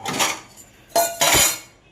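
A pile of unwashed steel kitchen dishes and pots waiting to be washed clatters nearby in two loud bursts, one short and one longer, with metallic clinks and scraping and a brief quiet gap between them.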